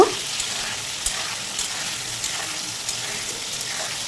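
Chopped potatoes with tomato and salt fry in a pan, a steady, even sizzle that runs throughout, close and moderately loud, with no speech.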